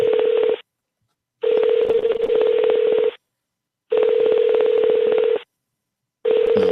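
A telephone number is dialed, heard as clean repeated touch-tone beeps in long bursts separated by short silences, loud and close with no talk over it.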